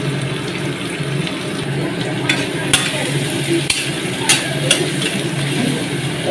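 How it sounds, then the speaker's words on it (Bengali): Whole cumin, bay leaf, dried chili and onion sizzling in hot oil, a steady frying hiss with occasional stirring clinks and pops rising above it. "গোটা জিরে, তেজপাতা, শুকনো লঙ্কা আর একটু পেঁয়াজ দিচ্ছি।"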